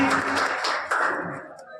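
Scattered applause from an audience honouring a student at a school award ceremony, brief and moderately near, with a voice speaking over the clapping.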